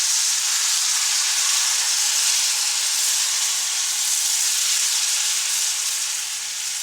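Water poured into hot melted sugar syrup makes the caramel hiss and steam fiercely. The broad sizzle is loud and close, holds steady for several seconds, then eases slightly.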